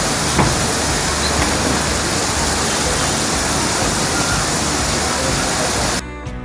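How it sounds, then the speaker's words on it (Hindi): Kiwai waterfall cascading, a steady, dense rushing roar close by that holds an even level throughout and then drops off abruptly near the end. "तो ये जी हम लोग पहुंच चुके हैं किवाई वाटरफॉल। बहुत ही खूबसूरत ये आबशार है।"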